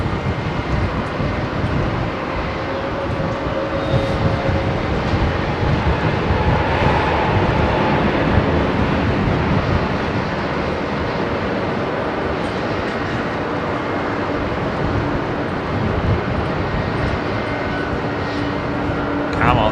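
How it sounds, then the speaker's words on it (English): A United Boeing 767 takes off from Heathrow runway 27R, a loud, sustained jet roar that rumbles steadily and evenly for the whole stretch. "Brian Stewart finally off to Chicago, I think, this United 767."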